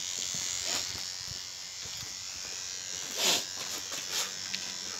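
An electric hair clipper runs without its guard attachment, giving a steady close buzz with brief louder bursts as it works.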